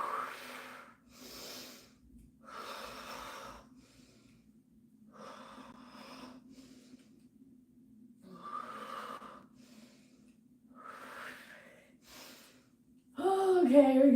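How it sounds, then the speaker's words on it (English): During a full-body workout, heavy rhythmic breaths puff and rasp in regular bursts close to the microphone, one exhale after another, with a voice breaking in at the end. "Breathe out. Breathe in as you come up. Breathe out."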